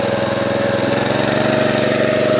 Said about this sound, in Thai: เร่งเครื่อง